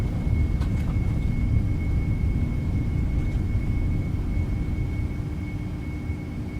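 A Boeing 757 on its takeoff roll and climb in the X-Plane 11 flight simulator, with a steady, loud engine roar and low rumble throughout and no voices.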